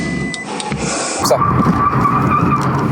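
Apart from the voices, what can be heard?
Toyota GT86 accelerating and drifting in a roundabout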